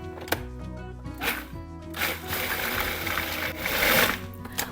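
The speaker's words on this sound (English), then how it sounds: "Let's get this thing whisked up." A vegan dessert mixture is whisked with a buzzing, whirring beater that runs continuously and close by, surging louder in places, with no talking.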